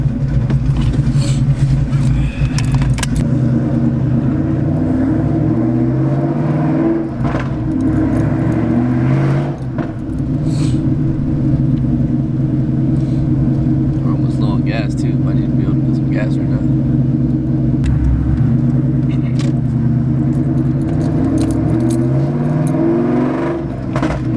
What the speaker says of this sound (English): I love the sound of the cams, man. Sounds so good.